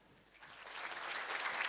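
Conference audience applause builds from faint to steady, dense clapping that swells over less than two seconds and carries no speech.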